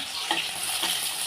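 Mustard seeds, cumin, urad dal, chana dal and green chillies frying in hot oil in a kadai, a steady close crackling sizzle with faint stirring scrapes, no voices.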